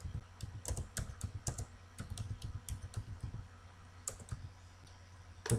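Rapid typing on a computer keyboard while composing a message, a steady run of close, crisp key clicks in irregular bursts with a few short pauses and no talking.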